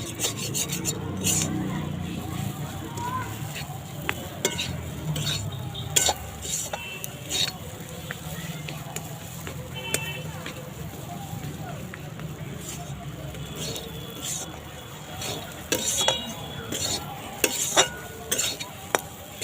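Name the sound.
dry-roasting mashed peas with gram flour (sattu) in pan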